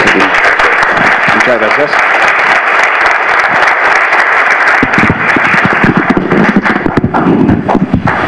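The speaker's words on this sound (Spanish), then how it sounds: "Démosles la bienvenida con un fuerte aplauso." A conference audience gives a loud, sustained round of applause to welcome a speaker, dense clapping filling the room before a voice starts talking as it thins out.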